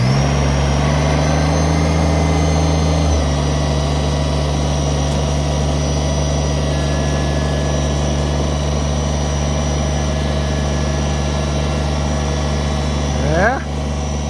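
A steady, rumbling tractor engine idles continuously, loud and close, with a low drone throughout and a brief shift near the end.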